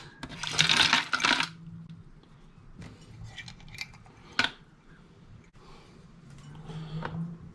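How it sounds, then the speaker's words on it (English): A cup of ice tumbles into a mango daiquiri mixture, making a loud, close rattling clatter of cubes up front, then a few scattered clinks and knocks of ice and a container follow more quietly. "Now to that, I'm just going to add a cup of ice."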